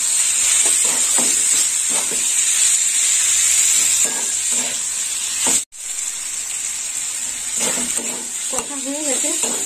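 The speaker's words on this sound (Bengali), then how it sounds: "দেখুন বন্ধুরা উচ্ছেটা কেমন কষা হয়েছে" Bitter gourd sautés in a pan with a continuous bright sizzle and hiss, broken by a brief drop in sound. Someone speaks over the frying at intervals.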